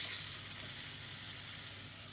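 Chopped garlic sizzling steadily in hot oil in a pan while being stirred, a close, even hiss with faint scraping and no voices.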